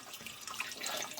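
Water from a non-powered ram pump fed by a stream splashes steadily into a storage tank, a close, continuous running and splattering sound with no talking.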